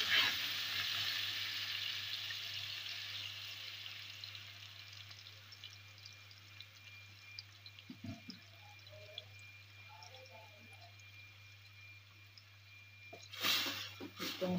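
Blended spice masala frying in a hot pot for steamed mixed vegetables, a steady low sizzle running throughout, with a few soft clinks and a louder scrape near the end.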